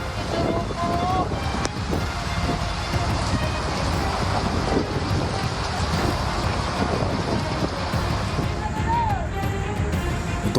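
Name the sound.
strong wind with heavy rain at Merak port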